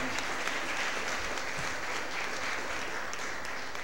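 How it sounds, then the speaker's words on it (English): A round of applause rings out at a St. Louis Board of Aldermen meeting for Youth and Government members: even, sustained clapping from a gathered crowd, moderately loud and steady throughout with no voices over it. "Let's give them a round of applause, and the Youth and Government."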